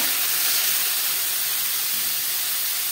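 Papaya hits a hot pan of browned mixture while papaya laddu is being cooked, giving a loud, continuous hissing sizzle that stays even from start to finish.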